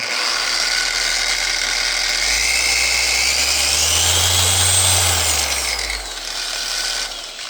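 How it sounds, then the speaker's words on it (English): A Batoca corded polisher runs with a steady, loud motor whine and a deep, slightly vibrating hum that swells and eases over several seconds, close by with no talking. "I haven't used a corded polisher in a while"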